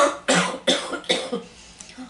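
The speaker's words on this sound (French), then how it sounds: "je traîne encore ma toux" Three harsh coughs in quick succession, close and loud, trailing off into a few softer breaths and throat noises.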